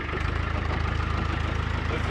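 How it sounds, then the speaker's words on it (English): A Land Rover Defender idles with a steady low engine drone and a continuous fast pulsing throb that suggests a loose, rattling exhaust; moderately loud and close, with no talk. "Is that the exhaust rattling?"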